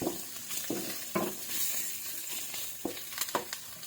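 Pork browns in a little oil in a pan for pinakbet, giving a soft steady sizzle broken by several sharp scraping stirs of a utensil against the pan.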